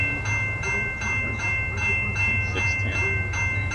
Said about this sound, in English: Let's watch the train come in from